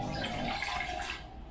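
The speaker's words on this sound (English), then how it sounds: "Pour this in here." Fresh cold water poured into a pressure cooker pot, a brief soft splashing trickle that fades toward the end.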